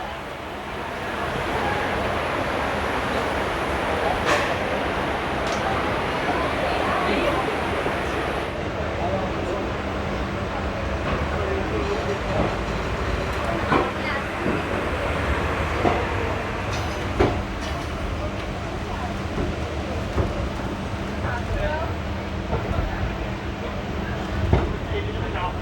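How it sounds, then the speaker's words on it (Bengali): The 13141 Teesta Torsa Express pulls out of Sealdah station, a continuous rumble of rolling rail cars with clacks and rattles heard from inside the train, while people talk in the background. "তো এই মুহূর্তে আমাদের ট্রেন শিয়ালদহ স্টেশন ছেড়ে বেরিয়ে গেল।"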